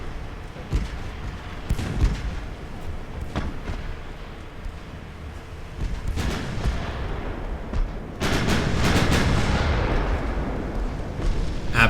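Small naval guns in Ultimate Admiral: Dreadnoughts fire in quick succession, sharp booming reports scattered across the clip and building into a dense, loud barrage toward the end.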